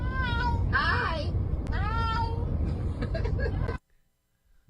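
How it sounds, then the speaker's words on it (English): A grand cat meows loudly in a long, drawn-out series of vocal cries, talkative and close, with a voice briefly greeting nearby before the sound cuts to near silence. "I've never seen a cat talk like that"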